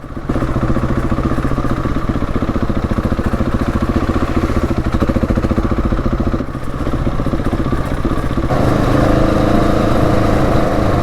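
A Husqvarna 701 Enduro single-cylinder motorcycle engine braking in second gear down a mild off-road slope, a loud, close, continuous throbbing drone with rapid pulsing firing beats that shift slightly in pitch.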